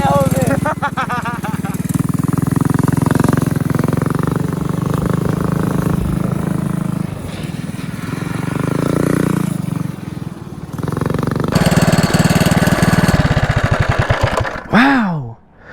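A go-kart powered by a Predator 212cc engine drives on a track, its engine droning steadily and loudly with rising and falling revs and a sharp rev-up toward the end, while a person talks over it.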